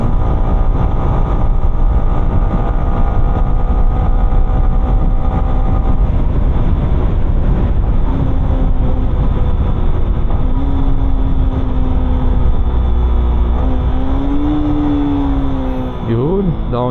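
A motorcycle engine and exhaust roar steadily and close while riding, the pitch dropping and rising as the rider downshifts near the end; a voice speaks briefly over it.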